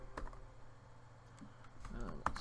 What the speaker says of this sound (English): the keyboard shortcut to close a window is just Alt F4